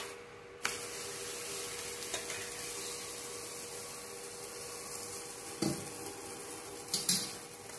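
Rice-flour potato parathas fry in oil with a continuous sizzle. A few utensil scrapes and clinks stand out along the way, and nobody speaks.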